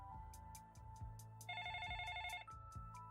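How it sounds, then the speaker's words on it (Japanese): A home landline telephone rings in repeated electronic bursts with a steady rhythm, loud and close, while no one speaks. "いきなり家の電話が鳴り出した"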